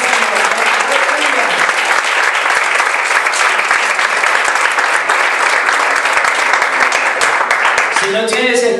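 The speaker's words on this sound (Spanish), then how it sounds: "Un aplauso último al Señor." Sustained loud applause from a congregation at a Spanish-language church service, a dense steady roar of clapping hands that goes on throughout.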